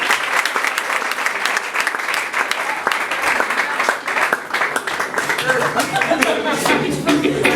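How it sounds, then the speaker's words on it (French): Sustained applause from a comedy festival audience, dense and steady clapping throughout with a few chuckles mixed in and voices underneath. "Applaudissez fort."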